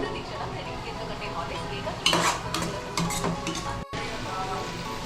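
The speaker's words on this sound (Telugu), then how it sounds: "ఇవి కొంచెం ఫ్రై చేసుకోవాలి. ఫస్ట్ కరివేపాకు కొంచెం," Curry leaves fry in hot oil for a fish curry with a steady sizzle, then a burst of crackling and spoon stirring against the pot, with a brief dropout near the end.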